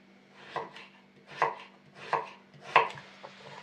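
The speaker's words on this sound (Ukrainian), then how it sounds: "Наступне нарізаємо селеру." Four or five firm knife chops through celery on a cutting board, evenly spaced and close, with no talking.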